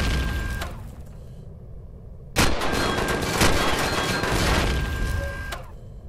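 Sustained rapid minigun fire in the space survival game Empyrion, a dense continuous rattle that kicks in sharply partway through and rolls on loudly over steady background game noise before tapering.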